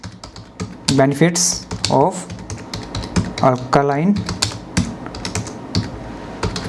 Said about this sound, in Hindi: हम यहाँ पर टाइप करेंगे